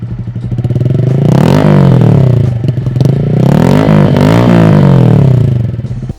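Honda Grom motorcycle fitted with a full Leo Vince exhaust revs loud and close, its engine note swelling and falling through two strong throttle blips with a raspy, clattering edge.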